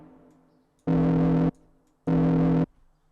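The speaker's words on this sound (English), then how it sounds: "Let's freaking make some sort of a machine type sound" Two identical bursts of a synthesized machine-like tone made in Harmor, each a loud, buzzing, distorted drone lasting about half a second with a brief gap between, over a faint low hum.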